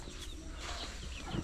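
Chickens cluck in a backyard flock of growing hens, some already laying, short soft calls repeating steadily and fairly close over a constant outdoor hum.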